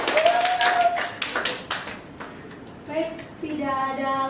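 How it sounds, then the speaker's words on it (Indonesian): Classroom applause for a student: a short burst of children clapping, fairly close and quickly dying away, with a teacher's voice speaking over and after it. "Beri tepuk tangan Yuni anak-anak"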